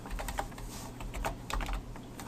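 Rapid, irregular typing on a computer keyboard, close and fairly quiet, with steady clicking keystrokes filling the moment alone without any talk.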